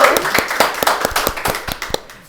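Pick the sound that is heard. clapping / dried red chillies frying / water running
clapping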